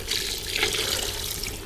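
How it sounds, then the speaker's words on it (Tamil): A little water is poured into a cooking pot of frying chicken for biryani, a steady close splashing stream lasting under two seconds. "அடுத்து கொஞ்சம் தண்ணி ஊற்றிக்கிறேன்."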